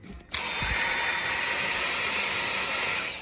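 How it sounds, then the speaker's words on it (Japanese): A hair dryer on its low fan setting starts abruptly and runs as a loud, steady whirring tone with a sustained high whine, close and uninterrupted for a few seconds before a slight fade at the end. "ドライヤーいいじゃないですか"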